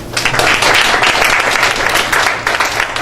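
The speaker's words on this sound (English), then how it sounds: "So let's give him a round of applause." A round of applause from an audience at a college diversity presentation, with dense, steady clapping that fills the room for the whole stretch, loud and close, and hardly any voices.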